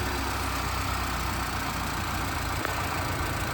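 A 2024 GMC Canyon pickup idles, its engine giving a steady, loud, broadband drone throughout with one brief tick partway through.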